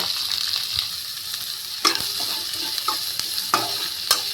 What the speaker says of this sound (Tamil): நல்லா ஃப்ரை ஆகட்டும்.